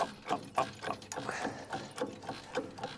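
Winch on a Te Pari sheep handler being wound by hand, giving a steady series of ratcheting clicks, close and moderately loud, repeating at an even rhythm without talk.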